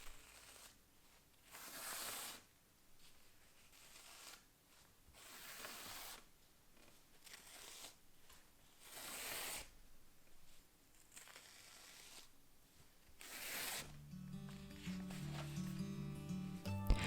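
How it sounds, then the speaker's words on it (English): Sheets of homemade paper made from recycled toilet paper rolls are peeled off fabric one after another in slow, repeated soft tearing rasps. Close and quiet, with faint music entering near the end. "I can now peel each sheet of paper from the fabric"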